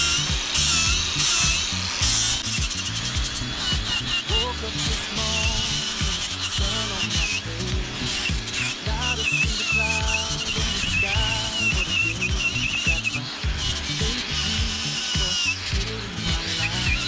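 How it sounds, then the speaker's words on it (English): A power sander smooths a fish carved into a log, buzzing steadily with gritty rasping and shifting pitch as it presses and moves across the wood, close and loud throughout. "Sander actually adds quite a bit of nicer smoothness to it."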